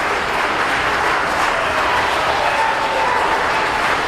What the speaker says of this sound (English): That's the longest round of applause I've ever heard in my life.